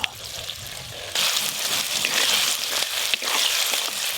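Chopped onions sizzle and crackle in hot oil with salt added, a dense, steady frying hiss that jumps louder after about a second and continues close up, with a few soft stirring scrapes.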